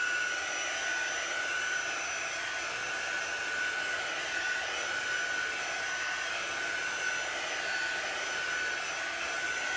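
A hair dryer blows steadily and loudly at close range, a continuous whooshing roar held without a break while drying chalk paint on a wooden board.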